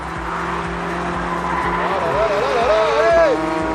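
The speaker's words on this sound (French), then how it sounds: "la coquine elle est partie en glisse" A performance car slides around a race track with tires squealing in wavering pitch over a steady, loud engine drone, while people talk excitedly throughout.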